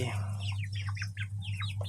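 Chickens in a large coop clucking and squawking in quick overlapping calls at close range, over a steady low electrical hum.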